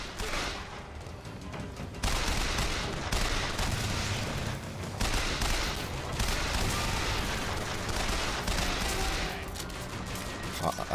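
Sustained gunfire and explosions in the video game Bioshock Infinite during its finale, continuous dense shooting bursts that keep up throughout, with no clear gaps, fairly loud.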